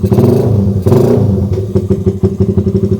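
A motorcycle engine with a 32mm carburetor and no airscrew idles steadily up close, its low throb running through the whole stretch with a rhythmic, slightly lumpy pulse and one brief blip in the middle.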